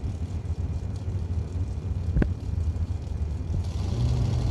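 Dragsters at a drag-strip bracket race give off a steady, distant engine rumble, broken by one sharp bang partway through.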